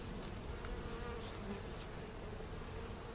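Honeybees hum in a dense, steady drone at a nucleus hive, fanning their wings to spread queen pheromone, with individual insects buzzing close by over the continuous background swarm.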